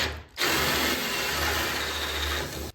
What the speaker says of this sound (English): I'm going to use my hole saw, and I'm just going to drill up at an angle a little bit.